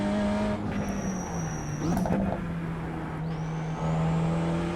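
A BMW M2 race car lapping Oran Park Raceway in iRacing, its engine holding a steady drone with shifting pitch, with a short tire squeal and a sharp hiss mixed in, close and continuous with no talk.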